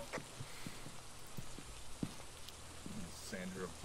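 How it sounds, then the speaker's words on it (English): Steady rain pattering on surfaces across a map in the video game Phasmophobia, a soft continuous wash with scattered drop ticks, quiet and fairly low in level. "Thankfully, the rain isn't fucking deafening like it used to be."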